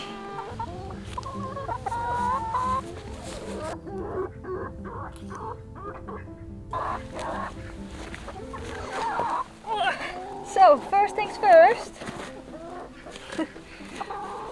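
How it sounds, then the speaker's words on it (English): Several chickens on a farm cluck and chatter nearby in a steady, busy stream, with a person speaking briefly over them. "we have 10 chickens on our farm right now"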